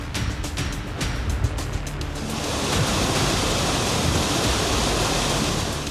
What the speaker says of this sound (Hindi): बांध के गेट से फुल स्पीड से निकल रहा है पानी